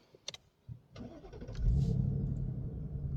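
A 2026 Ford Mustang GT with a 5.0 V8 and six-speed manual is started by push button: a few clicks, a brief starter whir, then the engine catches and settles into a loud, deep, steady idle close by.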